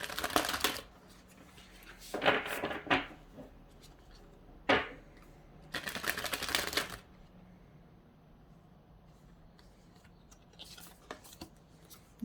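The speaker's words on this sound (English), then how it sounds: "I'm going to pull some more cards here." A deck of cards being shuffled and drawn during a reading, crisp riffling bursts that come in several separate rounds, close and fairly loud, with quiet pauses between them and no talk.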